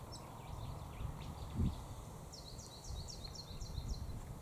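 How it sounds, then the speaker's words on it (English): Small chirping calls of a mistletoe bird carry faintly from a distance, a rapid run of repeated high notes partway through, over low rumbling outdoor background noise with one brief thump. "mistletoe bird, but it's very hard to film"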